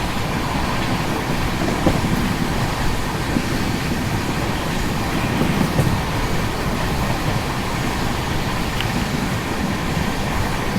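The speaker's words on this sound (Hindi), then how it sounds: "न्यू दिल्ली शियालदह राजधानी एक्सप्रेस क्वीन ऑफ राजधानी वीरपुर में क्रॉसिंग हो रही है" New Delhi–Sealdah Rajdhani Express thundering past at a crossing near Virpur, a steady, loud rumble of wheels and wagons with wind-like roar sustained throughout, no voices.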